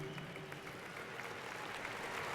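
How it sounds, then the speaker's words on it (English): A large crowd at a high school graduation ceremony applauds, a continuous wash of many hands clapping in a big space, fairly distant and steady throughout with a faint murmur underneath. "turn to your parents and friends and clap for them and congratulate them"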